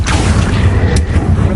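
A Confringo fire-blast spell exploding in Hogwarts Legacy, a loud, close, deep boom with a rumbling body and a short crackling tail, heard alone.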